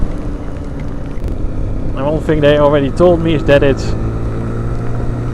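A MASH Seventy Five 125cc motorcycle engine hums steadily at speed while riding, a constant low drone under a voice speaking close to the microphone.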